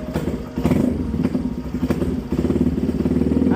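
A small, loud motorcycle with about 2,600 miles on it runs close by on a cold day, its engine putting out a steady, throbbing, rapid-pulsing rumble with some clattery mechanical knocks throughout.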